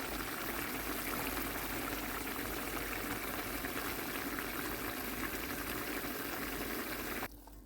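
Steady, continuous rush of water pouring into a pot of stewing vegetables for borscht, filling the whole clip at an even level before stopping abruptly near the end.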